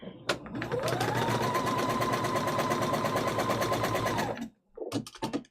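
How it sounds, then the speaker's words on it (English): A sewing machine stitching fabric runs loud and steady for about four seconds, its rapid needle rhythm continuous before stopping abruptly, followed by brief handling clicks. "Sorry if my sewing machine's a bit loud."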